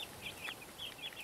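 Homestead chickens give soft, repeated clucks in a quick irregular rhythm, faint and close over a noisy outdoor background.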